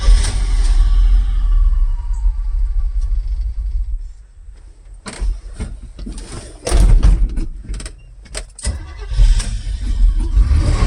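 A 1977 squarebody truck engine cranks and catches, running loud and close with a steady low rumble, a brief quieter lull, then several sharp bangs or clunks before it settles back into a rough idle.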